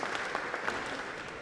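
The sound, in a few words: audience applause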